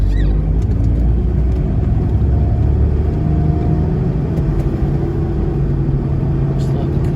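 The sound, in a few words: Toyota Troopy with 1HD-FTE engine driving onto highway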